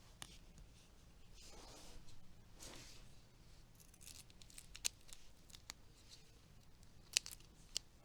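Scissors cut a short piece of duct tape for a prop arrow, a faint close snip with light rustling and crinkling and a few soft clicks, in a quiet room with no talking.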